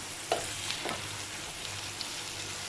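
Fried vegetables being stirred in oil with black pepper in a pan, a steady close sizzle under a few light scraping strokes of the spoon, no voices.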